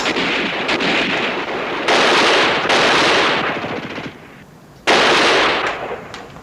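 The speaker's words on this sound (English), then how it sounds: "Come on, Sarge told us to keep firing." Dense machine gun and rifle fire from a 1963 World War II television battle scene, with sustained loud rattling bursts, a brief lull, then another sharp volley, and no talk over it.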